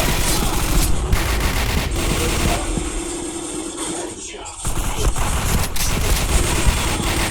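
Loud, dense automatic gunfire rattles almost nonstop in a shooter video game, briefly easing off near the middle before the volleys resume at full intensity.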